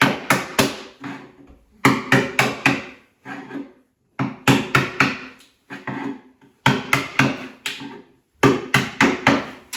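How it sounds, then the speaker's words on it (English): A chisel hammered into plaster during old kitchen renovation work: clusters of three or four sharp, close hammer blows separated by short pauses, repeating steadily with no talking. "Don't keep chiseling right in, because all you're going to do is push that chisel straight through that plaster"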